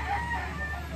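A chicken calls briefly, a short clucking cry close by.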